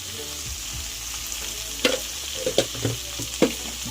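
Ingredients for a rohu fish curry with cauliflower stirred and frying in a pan, a close, loud sizzle with several distinct spatula scrapes and knocks in the latter half.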